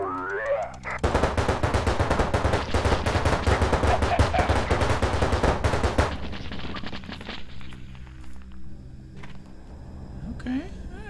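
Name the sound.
heavy gunner firing machine gun in video game Tales from the Void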